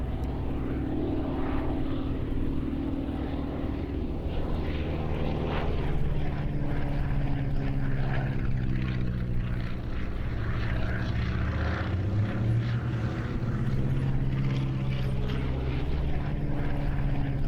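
A vintage propeller aircraft, in all-white Luftwaffe aerobatic team markings of 1938, flies at the Flying Legends air display at Duxford, with a steady droning engine roar throughout and pitch shifting slightly as it passes.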